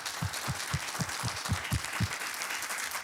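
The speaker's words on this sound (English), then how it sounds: "Let's give them a round of applause" Applause for startup founders at an investor feedback session, heard as a rhythmic run of claps close by, roughly eight evenly spaced beats over a steady background hiss.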